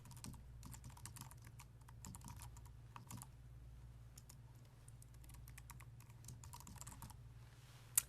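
Someone enters an email address on a computer keyboard: quiet, irregular runs of key clicks with brief pauses over a low background hum, no voices.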